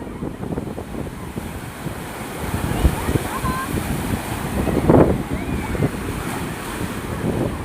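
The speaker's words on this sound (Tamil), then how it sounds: "இந்த அலை பாருங்களேன் அப்படியே கிட்ட வந்து நம்மளை அழகாக தொட்டுட்டு போகுது பாருங்கள்" Sea waves break and wash up onto the shore in a continuous rushing surf with a louder crash near the middle, heavy wind noise buffeting the microphone throughout.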